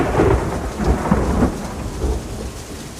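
Heavy rain pours down steadily while deep rumbles of thunder roll through, a dense, dark wash of sound with no voices.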